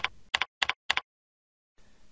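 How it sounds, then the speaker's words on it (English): Four quick, separate keystrokes tap on a computer keyboard, close and crisp, followed by a silent pause and then a faint patch of background noise. "so begin typing the word hotel"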